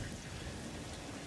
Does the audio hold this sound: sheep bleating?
no